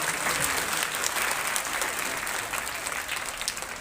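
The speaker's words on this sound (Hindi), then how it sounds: "आपका जोरदार तालियों और सम्मान" An audience at a school event, a state minister's bicycle distribution to students, breaks into loud, sustained applause with dense clapping that stays strong throughout and slowly eases.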